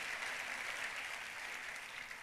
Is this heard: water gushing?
no